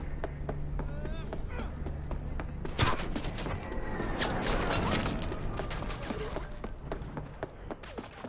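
Rapid bursts of gunfire after an order to open fire, a dense stream of sharp cracks and impacts over a busy, noisy battle din.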